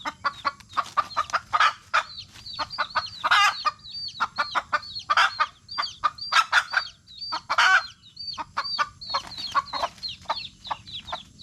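Hens and their chicks cluck and cheep in quick, dense bursts close by, a busy continuous chorus of farm chickens with no talking over it.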